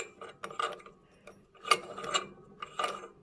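A big special nut is screwed onto the crank bearing of a pre-war Riley 9 Brooklands replica, giving close, quiet clustered metallic ratcheting and threading clicks in uneven bursts.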